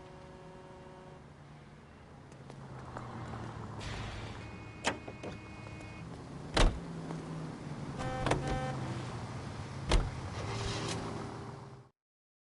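Car driving in L.A. Noire, a steady engine drone with rising whine over about twelve seconds, punctuated by sharp clunks and brief tonal chimes, ending abruptly.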